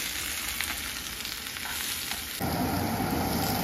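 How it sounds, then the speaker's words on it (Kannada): Onion and dried red chillies fry in a pan on a stove, a continuous close sizzle with a few soft stirring scrapes that suddenly grows louder and fuller near the end, with no talking. "ಫಸ್ಟ್ ಈರುಳ್ಳಿನೂ ಒಣಮೆಣಸಿನ್ಕಾಯಿ ಇದನ್ನು ಸ್ವಲ್ಪ ಫ್ರೈ ಮಾಡಿಕೊಂಡು ಪೇಸ್ಟ್ ಮಾಡ್ಕೋಬೇಕು"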